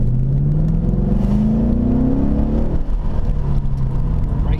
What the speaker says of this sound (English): Lovely sound from that V8 as well.